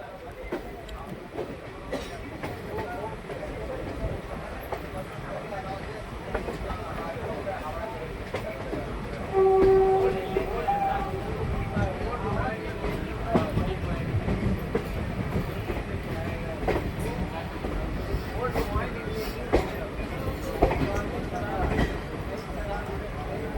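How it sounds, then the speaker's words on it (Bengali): Passenger train on the short Tinpahar–Rajmahal run slowing as it pulls into Rajmahal station, with a steady rumble of wheels and carriages and faint clicking of rails throughout, voices talking over it. "এখন ধীরে ধীরে স্লো করছে, স্টেশন ঢুকছে।"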